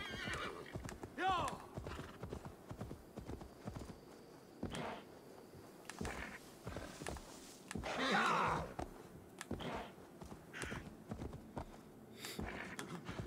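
A horse in Assassin's Creed Valhalla whinnies and snorts while its hooves clip-clop in uneven bursts, mixed with game sounds and speech across a long stretch.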